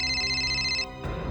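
A steady electronic ringtone plays for most of a second, then cuts off abruptly, followed by a burst of broadband noise.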